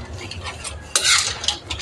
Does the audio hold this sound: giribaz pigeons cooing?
no